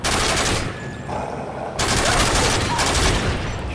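Gun turret firing in Call of Duty MW3, loud, sustained rapid automatic bursts with a brief lull around the middle before heavy fire resumes.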